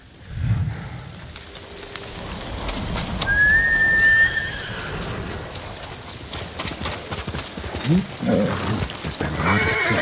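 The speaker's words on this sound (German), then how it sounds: "Das ist ein rotes Pferd" A horse whinnies inside the Ghost of Tsushima video game, a brief neigh partway through over a rustling, weathery ambient bed with hoof clops and a faint whistle, no speech.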